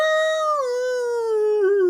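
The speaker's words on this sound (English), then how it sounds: "like howling, baying sounds coming through the portal that's opening up in the center of this clearing" A single long, wavering howl, loud and close, that slowly drops in pitch and ends in a short quiver, with no other sounds around it.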